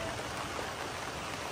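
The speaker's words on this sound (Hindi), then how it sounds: "ओ भाई नीचे झरना" Rain on a wet trekking path in hilly Nainital, with a waterfall below: a soft, steady wash of falling water and patter, faint and continuous, with no voices.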